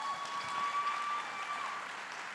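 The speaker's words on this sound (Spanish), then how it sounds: "un fuerte aplauso aquí" Audience applause for a pastor's wife, Diana, at a church revival service: a steady, even wash of clapping from a crowd for a couple of seconds, with a faint sustained tone running beneath it.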